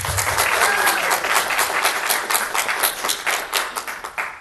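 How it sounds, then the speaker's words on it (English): A convention audience bursts into loud, dense applause for an actor guest, the clapping sustained and then gradually thinning toward the end. "give him a nice, round, warm, happy applause"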